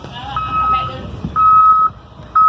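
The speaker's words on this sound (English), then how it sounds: "He has the sirens on, y'all hear it?" A deputy's vehicle siren sounds in steady high tones near a highway, broken into long bursts with gaps, alongside background traffic rumble.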